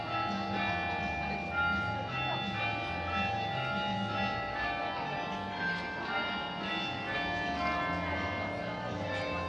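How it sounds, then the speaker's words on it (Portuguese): City hall bells in Oslo ring out with sustained, overlapping tones, heard at a moderate distance over a faint background murmur. "Vocês estão escutando os sinos da prefeitura?"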